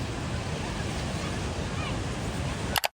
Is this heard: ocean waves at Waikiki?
yes